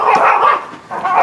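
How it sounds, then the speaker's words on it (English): Dogs bark close by in a quick run of loud, sharp barks, with a brief dip before a final bark, and no speech. "Oh, these dogs."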